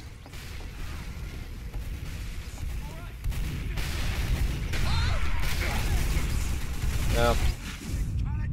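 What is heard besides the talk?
video game gunfire with hit and kill sounds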